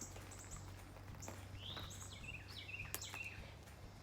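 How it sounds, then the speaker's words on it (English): Faint birds chirp in short, scattered calls and trills against a quiet outdoor background with a low hum. "We hear birds."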